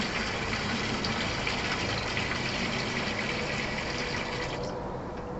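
Mushroom starch liquid pours through a strainer into a bucket, a steady close splashing gush that fills the whole stretch before easing slightly at the end.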